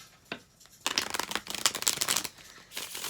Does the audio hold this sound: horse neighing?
no